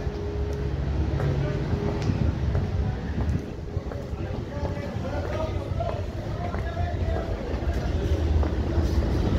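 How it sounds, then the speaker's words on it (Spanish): A Metrópoli 9000 metro train rumbles steadily as it departs a Line 1 station, a continuous low mechanical roar with faint squeals and clatter, fairly close, with no one talking. "Justo uno de los trenes Metrópoli 9000 parte rumbo hacia la estación Parque Industrial."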